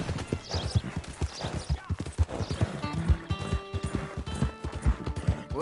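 Hooves pound in fast clip-clop rhythm as a horse gallops in the Red Dead Redemption 2 video game, with a whinny partway through, close and prominent.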